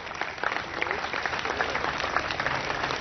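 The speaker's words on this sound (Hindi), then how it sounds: "आपकी भरपूर तालियों में अवार्ड हासिल कर रहे हैं" An audience claps as an award is handed over at a presentation and training event in Karachi. The applause is continuous and fairly loud, with a sustained texture of many hands and no voices over it.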